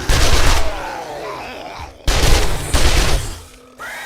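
Gunfire in the zombie survival game 7 Days to Die comes as two loud, close bursts of rapid shots, each ringing out and fading before the next volley.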